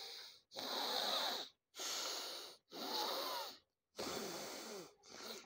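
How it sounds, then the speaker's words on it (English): Alternate-nostril breathing exercise: five loud, close, airy nasal breaths follow one another in a steady rhythm, each lasting about a second and separated by short silent pauses. "You take breathing from one nostril and release it from other, then take from other and then release from first"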